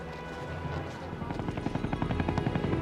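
A helicopter in Korean War footage gives a loud, rumbling drone whose rotor pulses grow into a rapid, regular thudding beat toward the end, close and continuous with no talk.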